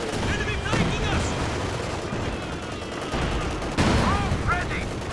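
Weapons fire in a video game battle rattles through the scene as a continuous background clatter, with a sharp burst near the end and voices talking over it.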